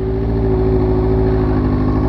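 A motorcycle ridden by a first-time rider pulls away in first gear, its engine droning loud and steady at close range with a constant low tone and no talk over it.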